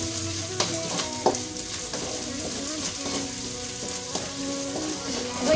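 Galangal, bay leaves and lemongrass sizzle in oil in a frying pan for sayur lodeh, with steady crackling frying under repeated scrapes and clacks of a spatula stirring.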